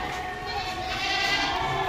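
Goats bleating in a crowded pen at Deonar livestock market, a few overlapping calls rising over a steady crowd hubbub, moderately close.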